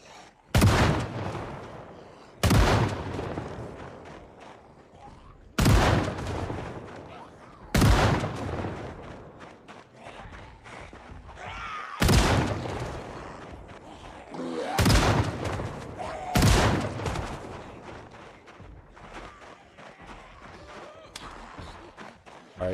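A gun fires in Project Zomboid, with about seven heavy, widely spaced shots, each ringing out over a quiet background before the next one.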